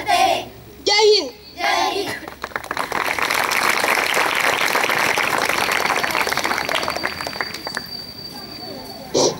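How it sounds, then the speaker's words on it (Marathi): Children applaud at a school event after reciting the Constitution preamble: a few short bursts of children's voices, then a dense, sustained burst of clapping lasting several seconds before fading out. "पुन्हा एकदा जोरदार टाळ्या वाजवा त्यांच्यासाठी"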